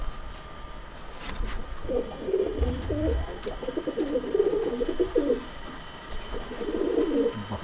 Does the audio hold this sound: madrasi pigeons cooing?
yes